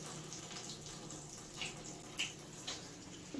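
Water runs steadily from a tap in a mountain cabin, a soft continuous rush with a few faint splashes and knocks, heard alone and fairly quiet.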